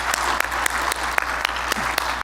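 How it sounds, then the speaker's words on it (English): Audience at a medical talk on Waldenström macroglobulinemia applauds for Dr. Christian Buske, a steady wash of many hands clapping in a hall with a few louder nearby claps standing out. "A round of applause for Dr."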